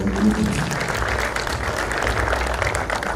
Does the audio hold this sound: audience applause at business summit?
yes